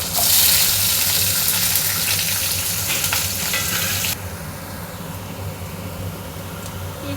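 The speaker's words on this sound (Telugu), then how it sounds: "ఈ కలర్ వచ్చే వరకు ఇవన్నీ వేయించుకొని" Onions, curry leaves and green chillies fry loudly in a pan of oil, a dense steady sizzle that is strongest at first, then drops to a softer, even crackle after a few seconds, with no voices.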